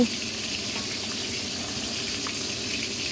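Mackerel frying in a pan hisses with a constant, close sizzle of hot oil and light crackling, steady from start to end with no voices.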